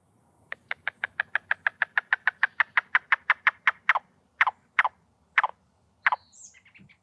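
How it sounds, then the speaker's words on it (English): A cuckoo's call: a fast, even string of about twenty hollow, wood-knocking notes, then a few slower, spaced notes trailing off, clear against quiet background. "Some people in different cultures have called this a rain crow."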